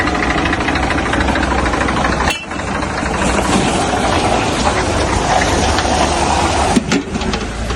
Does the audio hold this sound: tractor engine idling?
yes